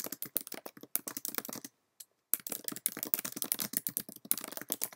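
Notes are typed on a computer keyboard in rapid bursts of close, crisp key clicks, pausing briefly before the steady clatter resumes.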